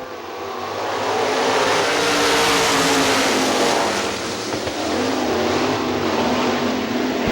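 Sprint cars roar together at the start of a heat race on the dirt track at Hartford Speedway Park, a loud, sustained wall of engine noise that swells and holds steady as the pack accelerates.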